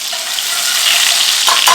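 Steady crackling hiss of butter sizzling in a hot pan, close and continuous, with a couple of brief louder spatters near the end.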